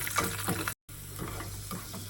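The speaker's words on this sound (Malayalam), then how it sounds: "ഇനി നമ്മൾ എടുത്ത് വെച്ചേക്കുന്ന കിസ്മിസും കൂടെ ചേർത്ത് വറുത്തെടുക്കണം" Raisins frying in oil for Malabar thari kanji, a soft close sizzle with light stirring clicks and a brief dropout, with no talking.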